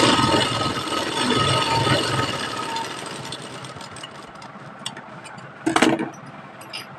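A sewing machine stitches a pocket onto a kurti with a dense, steady mechanical whir that gradually quietens. A brief clatter of handling follows near the end.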